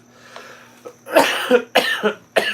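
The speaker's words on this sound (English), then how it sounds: "have a coughing fit" A person coughs in a short fit: several loud, harsh bursts close to the mic, coming in quick succession after a quieter start.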